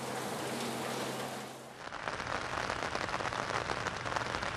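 Heavy rain pours steadily during a flood-causing downpour near the swollen Shkumbin river in Albania, a dense continuous hiss that shifts abruptly partway through to a rougher, closer patter, with no voices.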